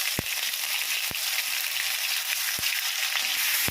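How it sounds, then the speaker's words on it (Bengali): Ginger-garlic paste and nigella seeds fry in oil in a wok with a constant bright sizzle, broken by four sharp knocks of a spoon stirring against the pan. "ভালো করে নাড়িয়ে নেব, একটু ভাজা ভাজা করে নেব।"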